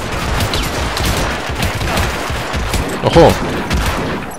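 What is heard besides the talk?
gunfire in a video game shootout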